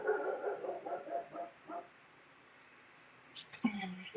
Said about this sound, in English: the dog had to start barking because I'm on camera